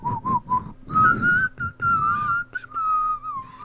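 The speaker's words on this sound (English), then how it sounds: "Do you whistle breathing in or blowing out?" A person whistles a wavering melody in close, clear short notes that give way to longer sustained tones, with no talking.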